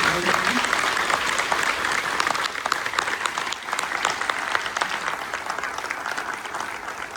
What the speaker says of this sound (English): can we please give one more huge round of applause to all of our servicemen and women?